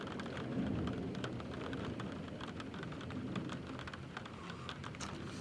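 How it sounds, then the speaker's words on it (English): Steady outdoor rain falling, with dense patter and scattered droplet ticks over a low rumble, moderately faint and continuous. "See, it start raining on me."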